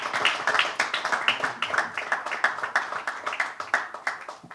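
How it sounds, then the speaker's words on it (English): A modest audience claps at a pickleball championship press conference; individual hand claps stand out in an uneven, pulsing rhythm, moderately close and sustained to the end. "big round of applause for Pranav Rohira"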